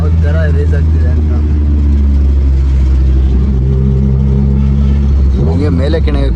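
A car engine revs hard, its pitch repeatedly climbing and dropping as the RPM rises and falls, loud and close, with someone talking over it.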